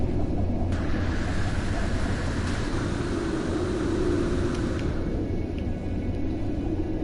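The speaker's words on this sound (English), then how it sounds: "It sounds windy." Steady wind blows through the video game Moon's survival as a constant low, rushing rumble that holds evenly throughout without gusts or breaks.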